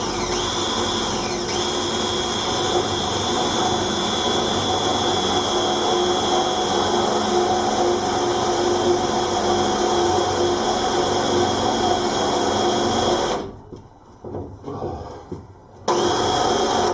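A power drill with a long drill bit whines steadily and loudly for a long stretch while boring a hole through a narrowboat roof, then cuts out abruptly near the end, leaving brief quiet and scattered noise.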